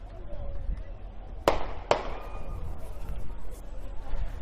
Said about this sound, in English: we are hearing gunshots right now in the 3rd Precinct